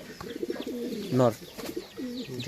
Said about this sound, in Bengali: এটা মনে হয় বিআরপিএল ক্লাবের কবুতর